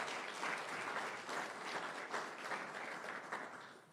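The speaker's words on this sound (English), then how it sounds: "Kindly give them a round of applause." An audience claps at the launch of the CEO Africa Botswana chapter, a steady, even round of applause from a roomful of people, sustained throughout without talk.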